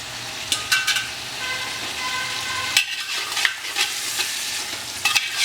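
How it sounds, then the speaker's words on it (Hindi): Mutton with ginger-garlic paste fries over a high flame in a pan and is stirred steadily, with a continuous close sizzle and repeated scraping strokes that run throughout, no voices. "और हल्का सा इसमें मैं अभी स्टॉक डालूंगा और इसे बढ़िया भून लेते हैं।"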